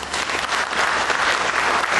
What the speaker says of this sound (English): Clap your hands if you like the first one better.